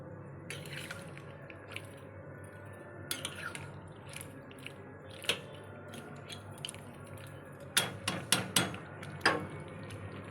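Goat head and trimmings curry gravy with potatoes simmers in a pot, giving faint scattered bubbling pops and drips over a quiet background. A quick burst of louder plops comes near the end, and no one speaks.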